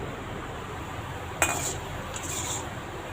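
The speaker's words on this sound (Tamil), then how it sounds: "நல்லா இப்படி கரண்டியால் திருப்பி விட்டுகிட்டே இருக்கணும்." A ladle scrapes and clinks against a pan while turning potato balls over a low flame, a couple of brief metallic strokes over a quiet, faint background with no talk.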